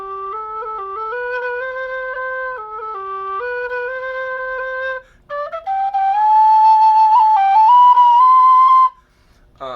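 Alto G whistle made by Sergey Vertletskii (dudukoid), played alone as a steady, fairly loud melody of clear sustained notes that step up and down, with a brief pause midway before a higher phrase and a short break near the end.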